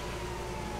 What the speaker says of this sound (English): my lights and siren are on right now